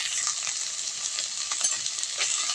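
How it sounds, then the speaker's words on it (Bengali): Spice paste with salt and turmeric fries in a pan, a close, continuous crackling sizzle with light stirring scrapes throughout. "লবণ হলুদ দিয়ে মশলাটা আমি ভালো করে কষিয়ে নেব।"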